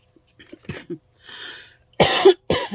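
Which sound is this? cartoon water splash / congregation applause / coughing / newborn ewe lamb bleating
coughing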